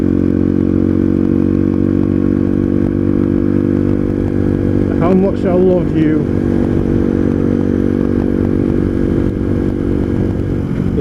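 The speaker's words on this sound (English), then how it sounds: "The sound of the engine, the exhaust, oh, the smell." A motorcycle engine idles steadily and loudly nearby with a throbbing exhaust drone throughout; a person briefly speaks over it midway.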